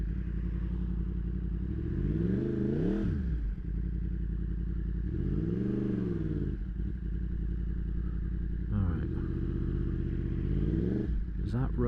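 A riding Yamaha MT-10 fitted with a Leo Vince slip-on exhaust gives a steady engine drone that rises and falls in several rev sweeps, with wind noise and a rider speaking over it.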